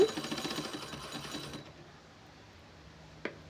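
A small sewing machine winds thread onto a bobbin in a fast, close mechanical whir for about a second and a half, then stops, leaving near silence broken by a single faint click.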